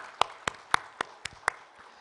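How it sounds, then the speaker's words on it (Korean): Claps from a church congregation during an Easter Sunday worship service, about six sharp claps in a steady, evenly spaced rhythm, fairly close and distinct. "감사의 박수 올려드리겠습니다."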